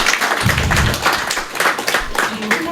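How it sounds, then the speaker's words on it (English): A room of people at a historical society meeting gives a short round of applause for Sharon, uneven claps close by with some murmured voices mixed in, lasting a few seconds. "How about a round of applause for Sharon?"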